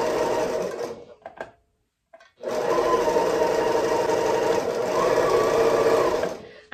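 A sewing machine stitches half square triangle quilt pieces, giving a steady close whir that stops briefly for about a second, then runs on evenly and loudly to the end.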